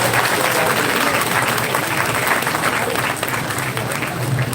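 Audience applause at a national-level MBA fest, a sustained wash of loud, dense clapping from a large crowd that continues without a break, with faint voices mixed in.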